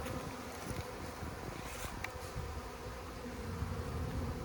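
Honeybees buzz in a dense, continuous drone from a hive colony, steady and moderately close, with a few faint clicks and handling sounds and no speech.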